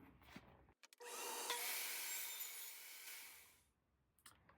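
A table saw fitted with a mitre gauge cuts through wood while a shop vacuum runs, a broad rising whine and rushing hiss sustained for a few seconds after brief clicks, then tapering off as the cut ends.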